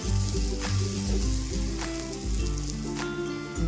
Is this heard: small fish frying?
yes